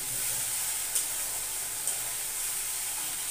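Spice masala sizzling steadily in hot oil as it fries down before fish goes in, a continuous bright hiss with a couple of faint clicks of stirring.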